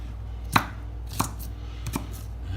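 Capsicum peppers being chopped with a knife on a board for homemade chili sauce: three or four sharp, separate cuts spaced unevenly over a quiet background, no voices.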